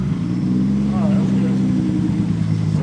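A supercharged 1,000-horsepower Camaro engine idles close by with an even, throbbing low drone, while a voice makes a brief sound over it.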